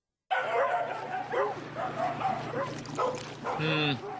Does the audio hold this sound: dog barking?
yes